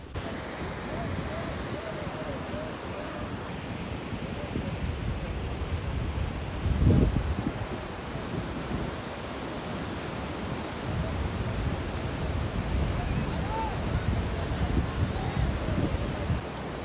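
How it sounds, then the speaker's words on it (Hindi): Steady, broad rushing of water fills the whole stretch, a constant roar from a nearby waterfall on a mountain trekking route, with no talk over it. "ये देखिए कितना सुंदर झरना है।"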